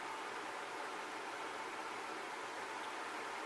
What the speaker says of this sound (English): I just realized I've been recording this while my fan is on